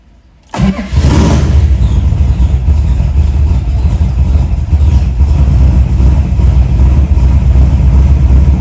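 An old car engine, just fixed after its loose coil wire was reconnected, cranks briefly and fires, then settles into a loud, steady, close idle that runs on without a break and with no voices.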